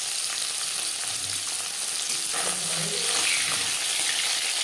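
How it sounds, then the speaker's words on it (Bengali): Bele fish frying in hot refined oil in a pan, a close, continuous hissing sizzle at an even level, with a soft low murmur of a voice underneath partway through. "4-5 চামচ রিফাইন্ড অয়েল গরম করে নিয়েছি। দিয়ে দেব মাছ।"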